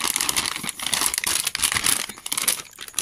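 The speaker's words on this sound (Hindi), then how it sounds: "चलिए दोस्तों, देख सकते हैं हमने फाड़ लिया।" Plastic packaging around a replacement clutch lever for a Hero Splendor Plus BS6 is torn open and crinkled up close, a dense, continuous rustle with sharp rips, no voices.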